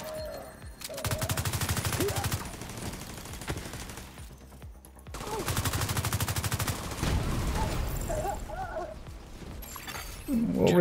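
A video game turret fires long rapid automatic bursts in two sustained volleys, rattling and loud, with short gaps and scattered impact noises between them.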